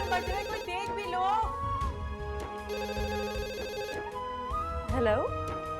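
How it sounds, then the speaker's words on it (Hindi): A telephone rings repeatedly over dramatic background music, the ring tones bright and insistent. "कब से फोन बज रहे, कोई देख भी लो।"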